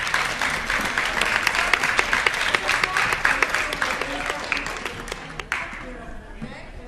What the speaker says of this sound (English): Okay, guys, applause.